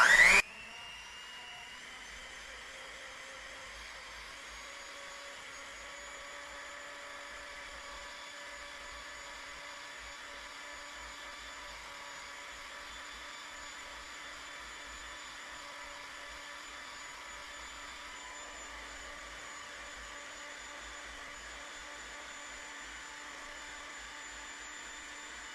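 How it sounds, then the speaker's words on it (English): An electric hand blender whips a balm of tallow, jojoba oil and essential oil, a steady whirring motor drone held for a long stretch after a brief start-up burst, close and even. "I'm gonna take my blender and I'm just gonna start whipping it."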